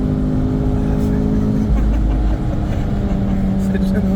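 Renault Clio RS3 engine running loud and close, a steady throaty drone with slight rises in pitch as it revs and pulls, continuous throughout with a voice faintly over it.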